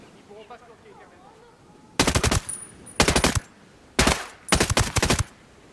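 Automatic gunfire in a tactical video game cracks out in four short, loud bursts of rapid shots, separated by brief pauses, after a moment of quiet.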